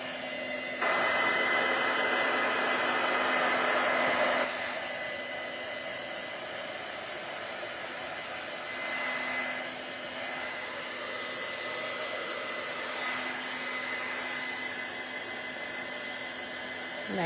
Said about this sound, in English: to fix it when it lays like that because the paper got wet, you can use your heat tool, which I'm going to use.